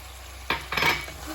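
Pork vindaloo being stirred in a pan after jaggery goes in, two or three short scraping strokes of a utensil against the pan over a faint sizzle, close and fairly quiet.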